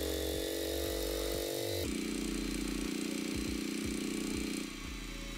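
Engine in the GearBlocks game revving steadily under held throttle, a loud continuous drone that rises through the gears with brief dips at each shift, then eases toward idle near the end.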